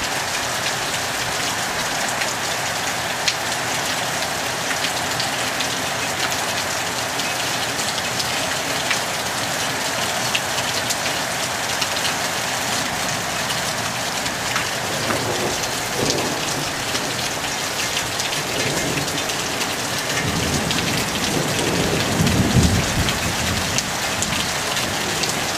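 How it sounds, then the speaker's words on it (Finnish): Heavy thunderstorm rain in Kuusankoski, Finland, in August pours in a dense, constant hiss on surfaces, with a low rumble of distant thunder rolling in near the end. "Vettä tulee kuin esteri, tai siis runsaasti."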